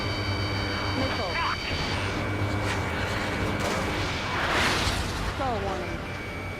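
Missiles launch and explode in the jet combat video game Ace Combat 7, with booming blasts, whooshing jet noise and rising and falling tones layered together, under overlapping game voices.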